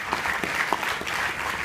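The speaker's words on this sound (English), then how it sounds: "A big round of applause for coining this name." An audience in an auditorium applauds after a motivational talk, a brief, dense, steady wash of clapping at moderate volume.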